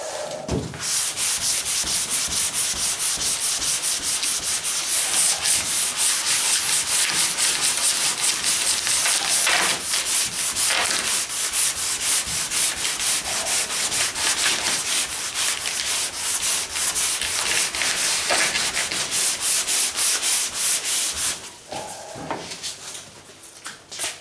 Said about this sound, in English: If you're finding that it's easier to sand with small blocks, they don't gum up quite as fast.